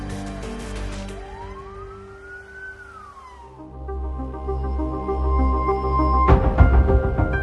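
Fire truck siren from a firefighting unit in Bekasi, a wailing tone that rises and falls over a city street, steady and fairly near over engine rumble and traffic, ending in a sharp clatter.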